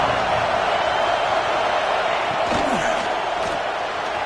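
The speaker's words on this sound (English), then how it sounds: "This crowd going to try to make life miserable for these guys." Steady roar of a stadium crowd in a college football video game, Alabama against App State, a dense continuous wash of fan noise with a few faint shouts rising briefly near the end.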